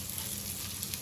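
Karli fish frying on a small tawa, giving a faint, even sizzle that holds steady and close throughout without any voices.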